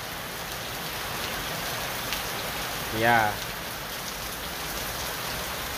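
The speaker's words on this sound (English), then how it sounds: "It's just raining, non-stop." Heavy, non-stop rain falls on an open construction site, a dense steady hiss throughout, with a brief spoken word rising over it midway.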